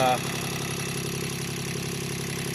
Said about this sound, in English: just got my engine running after a gasket repair. And this is it running.